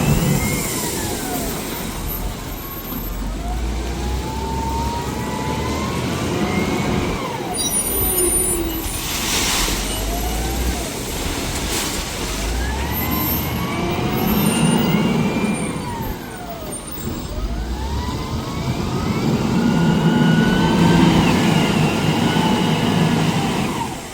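Several tipper trucks arriving and idling, heavy diesel engines rumbling low and steady with rising and falling revs and gear whines, some near and some farther off, an outdoor work site with no talk.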